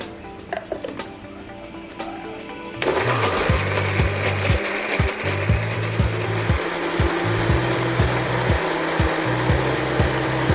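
An electric blender grinding turmeric spice paste with cooking oil, starting with a lighter whir and then a loud roaring churn with rhythmic choppy pulses as the blades catch the thick mixture.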